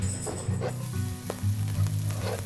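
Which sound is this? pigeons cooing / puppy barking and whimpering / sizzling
sizzling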